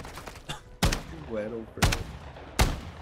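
Gunfire in a shooting video game: three or four sharp, loud shot bursts spaced about a second apart, close and punchy, with a brief spoken word and a short whooshing in-game effect between them.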